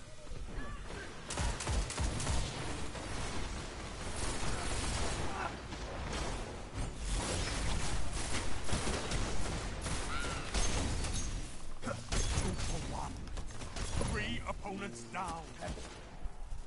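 Sustained gunfire and battle noise in Day of Defeat, overlapping shots and booms steady throughout, with players talking over the din.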